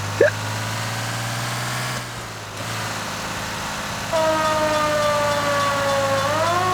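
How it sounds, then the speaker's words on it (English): Wailing police-style siren in the L.A. Noire video game, rising and falling over a steady engine drone, with a pitched tone sweeping up near the end, loud and continuous. "That is quite the siren."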